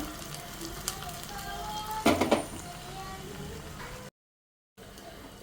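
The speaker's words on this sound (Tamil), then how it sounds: "நம்ம இங்கே தாளிப்பு ரெடி பண்ணிகிட்ருக்குறோம்" Spices tempering in hot oil for a prawn curry with drumstick and raw mango, a low steady sizzle with a brief louder crackling burst partway through, followed by a short silence.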